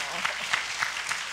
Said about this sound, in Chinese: 是不是鼓掌一下？